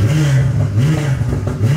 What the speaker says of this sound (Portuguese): Tá roncando a Porscheira, hein? Tá roncando.